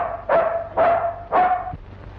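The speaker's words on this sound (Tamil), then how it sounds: "ஐயாவை கூப்பிட்டா நாய் குலைக்குது" A dog barks three times in a classic Tamil film scene, loud, close barks spaced about half a second apart with a slight whine in the tone.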